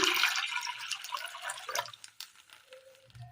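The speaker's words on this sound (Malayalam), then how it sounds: "അടുപ്പത്തൊരു ചട്ടി വെച്ച് കൊടുത്ത് അതിലേക്ക് അല്പം വെള്ളം ഒഴിച്ചു കൊടുക്കാം." Water splashes and trickles into a cooking pot on the stove with a bright, hissing pour that tapers off into a few small drips, no voices.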